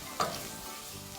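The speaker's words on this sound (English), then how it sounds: "Give it a little bit of stir and wait for it to become golden brown" Chicken biryani base frying in a pan and being stirred, with a brief scrape and sizzle burst near the start, then a steady low hiss of frying.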